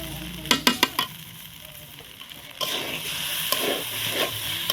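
Rice fries in a pan for a Bengali biryani, with a few sharp clicks of the spoon against the pan first, then a loud, close, steady sizzle that rises partway through.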